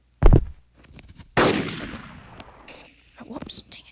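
Gunfire in an army shooting video game: a sharp shot near the start, then a louder sustained burst of rapid fire that trails off, with a few more bursts at the end, heard under excited players' voices.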